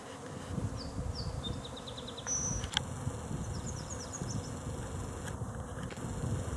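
A busy honeybee hive with a strong population, foragers bringing in bright red pollen: a steady close insect drone with individual bees whizzing past in short rising buzzes, over a dense outdoor background hum.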